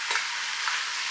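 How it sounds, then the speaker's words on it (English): Ground meat browns in a pot for chili with a steady, close sizzle and hiss, plus faint stirring scrapes, and no voices over it. "So we're just going to start this browning right in the pot."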